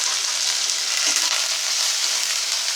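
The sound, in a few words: drumsticks frying in oil with salt, being stirred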